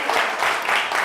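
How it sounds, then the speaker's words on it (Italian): Audience applause breaks out for two Spilimbergo contestants on a quiz show, a brief, loud, dense burst of clapping. "Facciamo un applauso ai due spilimberghesi"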